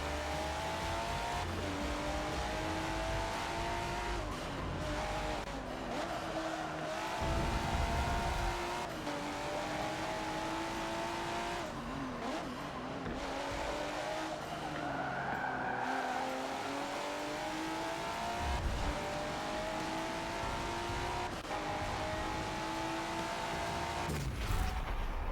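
Race cars in the Forza Motorsport 7 video game, engines droning and shifting pitch through accelerations with tire squeal and skidding, continuous and moderately quiet throughout.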